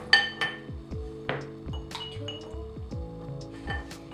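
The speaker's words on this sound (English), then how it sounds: "let's just throw these ice cubes in there" Ice cubes clink and knock into a glass while boba tea is being made, a run of bright, close taps and rattles with a little speech.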